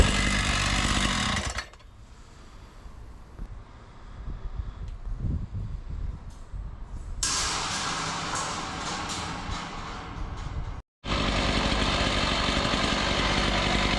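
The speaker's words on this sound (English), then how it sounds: "it's quite easy to do it as it's standing up. There you go, nice and easy, nice and quick as well. with that diamond blade." A diamond blade saw cuts through rebar mesh, loud whining bursts at start and end framing a quieter stretch of idling engine and wind buffeting on the microphone, with a brief dropout near the end.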